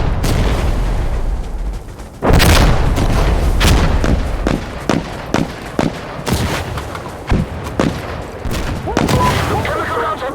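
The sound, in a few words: chemical artillery rounds firing in Insurgency Sandstorm video game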